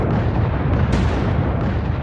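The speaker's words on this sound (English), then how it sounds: "Union cannons blast away at Vicksburg and its impregnable defenses for almost 2 hours." Union cannons bombarding Vicksburg's Confederate defenses: a sustained, loud rumble of artillery fire with dense low booms and a sharper burst near the middle, filling the whole span without talk.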